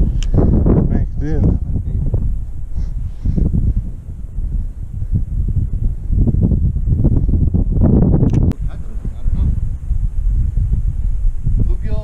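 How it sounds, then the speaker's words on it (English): Strong wind buffets the microphone outdoors beside a shallow puddle in a dried-up river bed, producing loud continuous rumbling gusts with people talking throughout. "Wind's kind of bad today"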